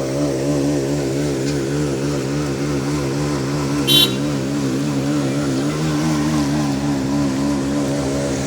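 Vehicle engines hum steadily on a Kolkata street as a car drives out, a continuous mid-pitched drone with a slight wavering pitch and one brief sharp high click partway through.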